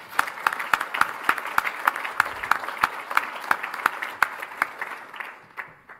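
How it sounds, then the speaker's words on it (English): An audience applauds steadily with a dense, even patter of clapping, a few louder claps standing out, fading toward the end. "one more round of applause wouldn't hurt"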